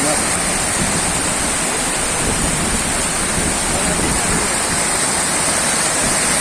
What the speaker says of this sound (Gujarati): પાણી તો જો કેવું આવે.